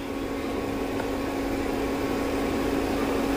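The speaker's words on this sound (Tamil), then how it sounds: "இது நல்லா கொதிக்கட்டும்." Water simmers with ginger and cardamom for tea, a steady, fairly faint bubbling hiss under a constant hum with no talking.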